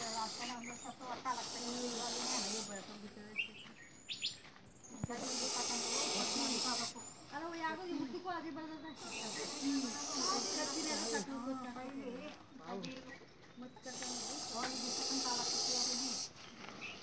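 A kitchen cooker hisses steam in a steady, airy rush that runs throughout, audible beneath people talking nearby.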